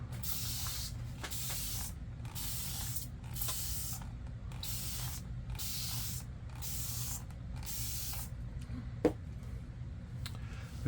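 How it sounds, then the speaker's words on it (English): A spray bottle mists water in a steady series of short hissing bursts, about a dozen evenly spaced sprays, close and fairly quiet. "using the spray bottle"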